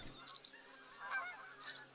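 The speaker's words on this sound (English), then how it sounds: "Like I can hear the geese." A few quiet honks from geese in the video game Fantasy Blacksmith come through a hushed game ambience, brief calls spaced across a couple of seconds.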